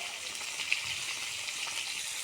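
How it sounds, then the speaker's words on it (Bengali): Small jatka fish sizzle steadily in hot oil near the end of frying, a soft continuous hiss with faint pops and no talking. "মাছ ভাজা প্রায় শেষের দিকে, এই যে হয়ে আসছে"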